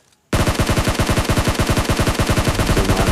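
Rapid automatic gunfire rings out in a PUBG Mobile match, a loud, close burst of evenly spaced shots beginning abruptly after a brief silence and continuing without pause.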